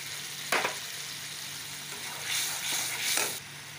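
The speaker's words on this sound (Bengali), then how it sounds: "এখন একটু নারকেলটাকে ভেজে নেব।" Coconut and mustard frying in a pan, a soft steady sizzle broken by a few sharp hissing bursts where the ingredients are stirred, with no talking.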